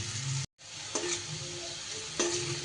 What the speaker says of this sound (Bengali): একটু নুন আর হলুদ দিয়ে কুমড়োটা একটু বেশ ভালো করে ভেজে নিতে হবে।